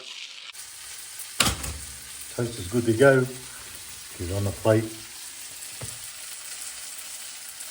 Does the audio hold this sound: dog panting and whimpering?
no